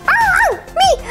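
A puppy gives two short, high-pitched yipping barks, close and loud, with a brief gap between them and no talking.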